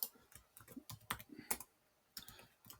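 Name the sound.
computer keyboard typing name and password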